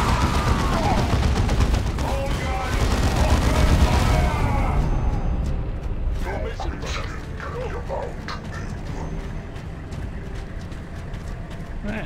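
Rocket launcher blasts and gunfire from the video game Dawn of War II: Chaos Rising, a loud, dense wash of battle noise with rapid shots and explosions running throughout, heaviest in the first few seconds.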